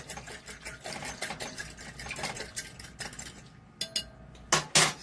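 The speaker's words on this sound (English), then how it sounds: "And then this is I gotta stir it up" A utensil stirs pickling brine for hot sauce in a jar or pot, making quick scraping, clinking strokes in an irregular rhythm, close and fairly quiet, with a few louder knocks near the end.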